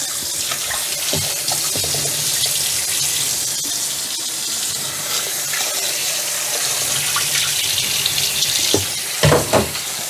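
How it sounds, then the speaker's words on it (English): Thai eggplant is rinsed under a running kitchen tap, a steady close hiss of water with brief splashy surges as the vegetable is turned in the stream. "Now rinsing the Thai eggplant."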